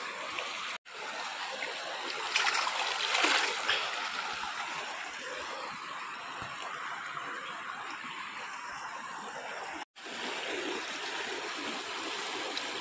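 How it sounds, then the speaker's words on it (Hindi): Water splashes and rushes continuously and loudly, close to the listener, with brief cuts, as freshly caught fish are washed. "उसको भी पानी से धो लूँगा"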